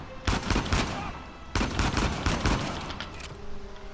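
Two loud bursts of rapid gunfire crack out in the video game Uncharted 4, each followed by a trailing rattle of shots that fades toward the end.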